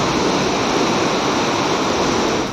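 Monsoon floodwater torrent rushing through Lasbela, Balochistan, a loud, dense, unbroken roar of churning water that holds steady throughout.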